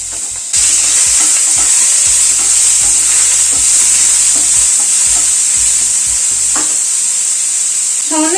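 Prawns frying in a little white oil in a pan, a loud, steady bright sizzle that starts abruptly and holds throughout, with soft clinks and stirring movements underneath.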